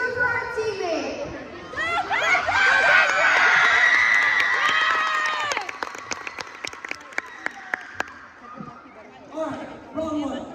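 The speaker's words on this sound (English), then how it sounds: "Let's not forget to cheer for our teammate." A school crowd at a middle school move-up day cheers, shouts and applauds loudly for several seconds, with children's voices prominent, then fades into scattered claps and chatter.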